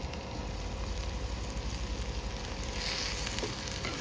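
Spice tempering sizzles densely and steadily in hot oil, a continuous crackling hiss that runs evenly throughout, close by and moderately loud.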